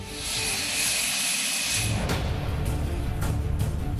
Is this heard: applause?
no